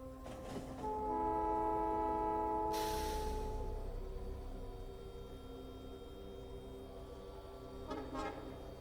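Looping train horn from the Honk mod in the Factorio video game, sounding from a train held at a signal: a loud sustained harmonic honk, then quieter drone, and a second short honk near the end.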